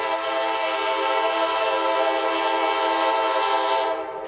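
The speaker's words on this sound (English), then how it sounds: "Things livened up when this train arrived." Freight train Q409, Selkirk to Waycross, Georgia, arriving with a loud, sustained multi-tone horn blast held for about four seconds before it cuts off.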